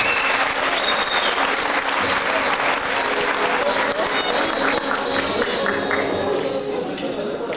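Audience at a 2007 concert in Van, Turkey, applauds loudly and steadily, a dense sustained clapping that fills the whole stretch, with some cheering voices mixed in.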